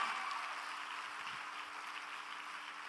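A congregation claps in a church service, a steady, moderately loud wash of many hands that holds evenly with no gaps, slightly fading toward the end.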